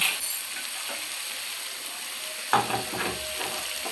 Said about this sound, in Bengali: এবার মাংসগুলো দিয়ে দেব